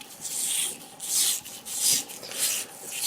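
Steady rhythmic sanding, a hissing scrub that swells and fades in regular strokes about every half second, close up with no talking.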